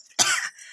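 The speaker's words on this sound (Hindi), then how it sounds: "खांसी" A single short, sharp cough from a woman in a home kitchen, close to the microphone and heard alone.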